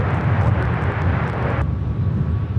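A KLM jet airliner on Amsterdam Flight 604 takes off from the north side at LAX. Its engines give a loud, steady roar that stays near and continuous throughout, with the high hiss dropping away partway through.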